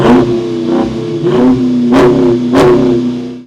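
Dodge Challenger with a 6.4-litre engine revs hard in a few sharp, rising bursts over a throaty idle, loud and near, with no talking.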